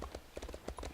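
Horse hooves trot in Elder Scrolls Online, a quick, steady clip-clop at a fairly quiet level.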